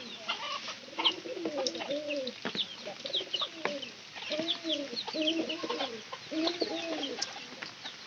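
Backyard poultry fed rice, clucking and cooing continuously in short warbling bursts, fairly close and moderately loud, with other birds chirping in the background.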